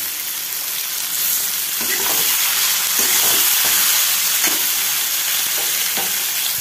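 Marinated chicken frying with onions in a hot pan, a loud steady sizzle with occasional stirring scrapes throughout.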